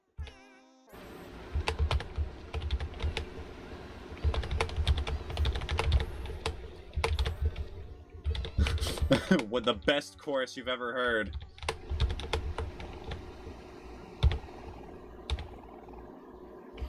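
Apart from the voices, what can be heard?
typing on a computer keyboard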